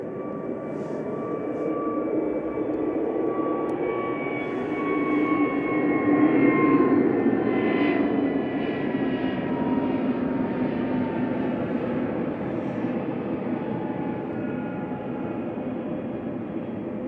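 A jet airliner departs Manchester Airport bound for Geneva, its engine roar building into a broad, steady rush that peaks midway and then slowly fades, heard from a distance with no talking.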